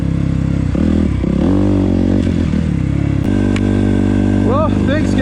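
Enduro motorcycle fitted with a Vortex ECU revving and labouring along a rough, muddy trail, loud and close with shifting engine pitch, clattering and scraping, and a rider's voice over it.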